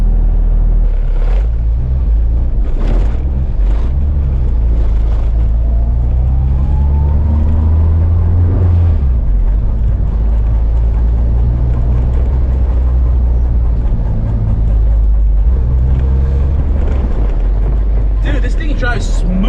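A car on a test spin after a rear trailing arm install, its engine droning steadily and loudly with a couple of rev swells, heard from inside the cabin.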